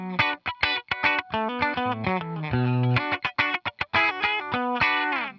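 Guitar run through a Chase Bliss Clean compressor pedal set to fast release and high dynamics, short plucked phrases swelling and ducking in an audible pumping rhythm, with a heavily effected, slightly distorted sheen and no voices.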